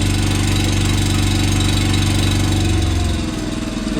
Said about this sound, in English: We'll idle for 30 seconds and then shut down.